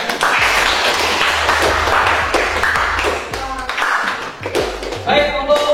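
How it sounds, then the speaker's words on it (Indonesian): Close, loud hand clapping from a classroom of students, a dense patter of claps with some voices mixed in and faint tonal sounds near the end. "Ya, terima kasih. Tepuk tangan."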